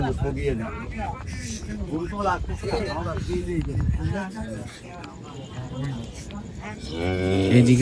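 Cattle low now and then at a busy night cow market in Khulna ahead of Qurbani, their moos mixed under nearly constant nearby talk and crowd chatter.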